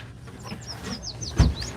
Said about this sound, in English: Yeah, I can hear some birds.